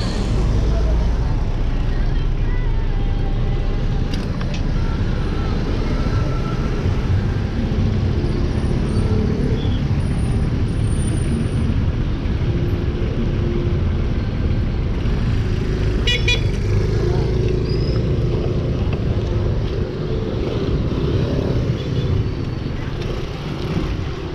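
Dense city traffic rumbles steadily throughout while riding a bicycle, with brief car horn toots around the middle and a voice talking over the continuous road noise.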